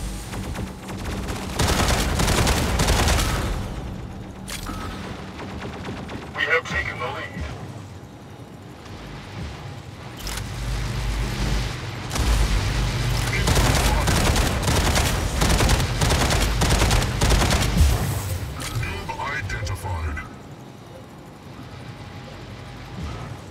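Gunfire and explosions from the Mech Arena video game rattle continuously in a dense, loud barrage of rapid shots and booms, with game voice announcements heard over the battle.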